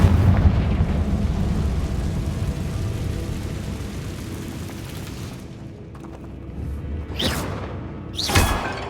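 Confringo spell explosion in Hogwarts Legacy, a long rumbling blast that slowly fades, followed by two brief whooshing bursts near the end, with no voices.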